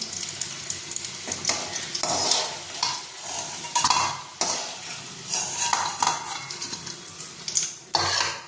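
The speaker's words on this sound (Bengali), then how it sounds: "দেখো আমাদের আলুগুলো কিন্তু লাল করে ভাজা হয়ে গেছে" Potatoes fry in oil until deep red, a steady close sizzle broken by repeated scraping and stirring strokes of a spatula against the pan.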